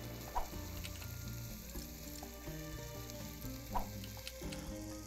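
Food sizzles and burns steadily in a pan in the Cooking Simulator video game, a continuous fry hiss under a faint repeating musical background with a couple of brief sharp clicks and no speech.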